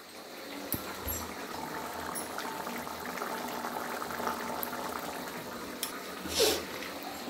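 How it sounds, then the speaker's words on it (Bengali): Egg curry with onion, garlic and green chilli bubbles quietly in a pot, a soft continuous simmer with a few faint clinks and a brief brighter hiss near the end. "এদিকে ডিমের ঝোল হচ্ছে"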